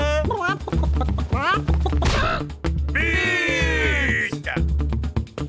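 Nasal duck quacks, several in a row, sounding loudly and close among lively talk.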